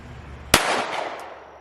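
A single pistol shot fired at an outdoor shooting range from around 75 yards to the target: one sharp, loud crack followed by a short fading echo, with no talking during it.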